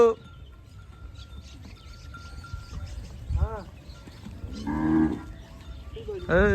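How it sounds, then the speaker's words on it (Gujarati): Cows moo several times, long low calls spaced apart, with some people talking faintly in the background. "જો ભાઈ ગાયો આવી ગઈ"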